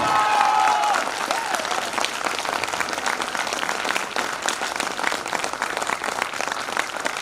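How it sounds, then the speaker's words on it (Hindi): An audience at a training event breaks into loud, sustained applause to welcome a speaker, a dense, steady wash of clapping that carries on for several seconds with no pause. "उन्हें आपके बीच आपकी जोरदार तालियों से इनवाइट करने आया"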